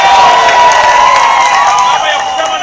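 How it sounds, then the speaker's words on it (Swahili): A crowd at a political rally claps and cheers in a loud, dense wash of sound, with a voice talking over it. "Wapi makofi ya mheshimiwa?"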